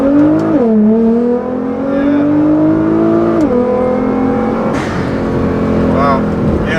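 A 2015 Nissan GT-R with a Meisterschaft exhaust, tune and GFB blow-off valves pulls hard in first gear, its loud engine note climbing in pitch, dropping at the shift, then rising again up close.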